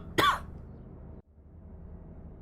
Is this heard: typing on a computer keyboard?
no